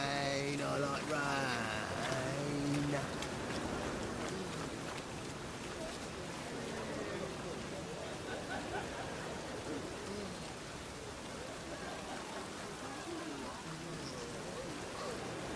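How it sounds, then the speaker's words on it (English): Steady rain in The Witcher 3 video game, a continuous hiss of falling drops throughout, with people talking and a musical tone near the start. "Rain, I like rain."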